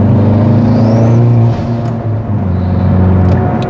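Hyundai Veloster N manual hatchback under hard acceleration, a loud close engine roar with steady harmonic drone and a slight dip mid-run, alone without talk.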